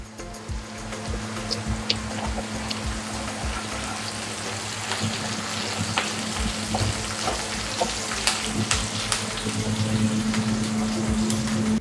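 Garlic and curry leaves fry in a pan with a continuous crackling sizzle and scattered sharp pops, loud and close, running steadily without any voices.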